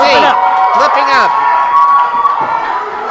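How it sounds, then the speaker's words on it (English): Wrestling crowd at a live UWC show in the Homer Opera House cheers and whoops steadily throughout, loud and close, with a commentator talking over the noise. "Crowd is rallying behind him, too."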